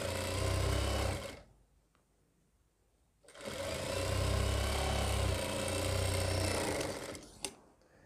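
A sewing machine stitches a churidar pajami in two loud, steady whirring runs, the first short and the second longer, split by a quiet pause and ending with a brief click.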